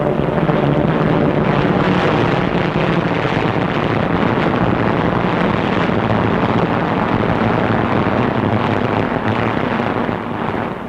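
Steady, dense roar of RAF fighter aircraft engines flying in formation in 1940, a continuous loud drone with wind rush and no break or talk.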